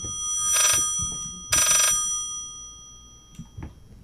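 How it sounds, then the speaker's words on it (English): An old telephone rings inside the Layers of Fear horror video game, with two loud, bright ring bursts about a second apart, followed by faint footsteps and creaks. "that phone's ringing and I'm gonna have to answer it"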